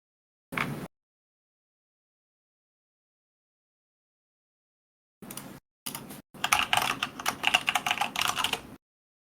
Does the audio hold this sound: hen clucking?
no